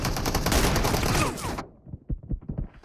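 Gunfire from an M24 sniper rifle in the mobile game PUBG Mobile: a loud burst of dense shooting for about a second and a half, then a quieter run of separate sharp cracks.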